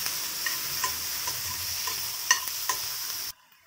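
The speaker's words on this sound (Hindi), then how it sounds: "थोड़ा सा सौते कर लेंगे।" Chopped onion and tomato sauté in a hot pan, a close, steady sizzle broken by several sharp scraping stir strokes, then the sound cuts off abruptly near the end with no voices.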